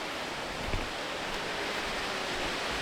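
Breakneck Falls, a waterfall in McConnells Mill State Park, roars as a steady, dense rush of falling water, continuous and evenly loud throughout with no voices.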